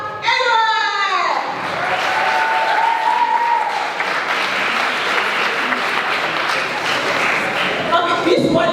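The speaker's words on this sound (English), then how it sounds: "A round of applause for Mr. Akbar Edward." An audience at a summit finals event breaks into sustained applause after a brief spoken introduction, the dense clapping carrying on for several seconds before a voice returns over it at the end.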